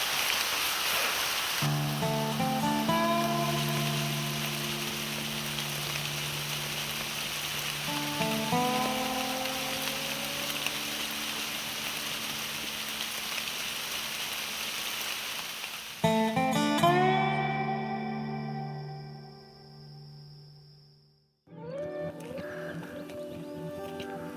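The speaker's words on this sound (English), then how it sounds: "hopefully the rain will stop and we won't get washed out" Steady rain patters on a campsite in the Caucasus Mountains of Georgia, a continuous hiss broken by tonal whines, then a sudden drop to quiet near the end.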